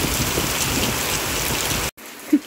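Rain pours steadily in a riverside setting, a dense, loud hiss of drops on surfaces that cuts off abruptly near the end, followed by a few faint close knocks.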